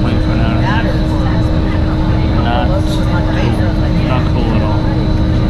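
Cabin of an airplane sitting on the ground, with a loud, constant engine and ventilation roar and a steady hum filling the space while passengers talk over it.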